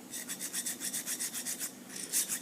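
A ship auger bit edge is hand sharpened with a small file, producing close, rhythmic rasping strokes in a steady back-and-forth pattern of about a dozen passes.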